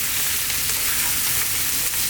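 Cumin-spiced potatoes fry in a pan for a dry Indian jeera aloo, giving a loud, continuous sizzle with faint scraping from constant stirring, and no one speaking.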